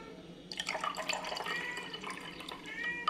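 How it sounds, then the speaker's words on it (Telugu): Carrot juice and beetroot juice being poured into drinking glasses for a dry fruit drink. The sound is a close, liquid splashing and trickling that starts after half a second and continues steadily, with no talking. "ఒక దాంట్లో క్యారెట్ జ్యూస్ కలుపుతున్నాను, ఒక దాంట్లో నేను బీట్రూట్ జ్యూస్ కలుపుతున్నాను"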